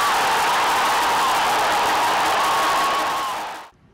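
Football fans of Iranduba, the women's team from Amazonas, cheer loudly in a stadium: a dense, sustained roar of crowd voices and whistles that holds steady, then fades out abruptly near the end.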